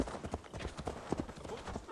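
Rapid hoofbeats of a galloping horse in Assassin's Creed Valhalla thud in a steady rhythm, fairly quiet and close.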